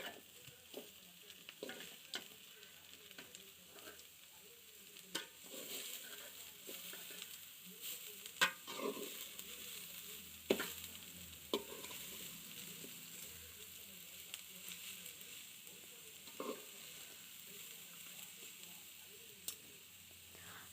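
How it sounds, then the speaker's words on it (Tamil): Beetroot sautéing in a pan for a South Indian poriyal, a steady soft sizzle and frying hiss running throughout, broken by repeated scraping stirs and occasional clinks of the spoon against the pan, fairly close and moderately quiet. "பீட்ரூட் நல்லா வதக்கிக்கணும்"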